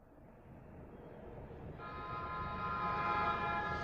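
Train moving in an animated movie, a rising rumble that builds into a sustained horn-like toot with layered tones, growing louder toward the end, no voices.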